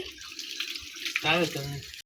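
Water gushes steadily from a hose with a hissing splash, while a person speaks briefly over it.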